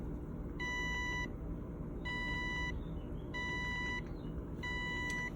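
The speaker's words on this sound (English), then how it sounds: "So here it is, 4 short beeps." Four short electronic beeps from a Neptune Systems automatic water top-off unit sound at an even pace, each a bright tone lasting under a second, over a quiet, constant low rumble.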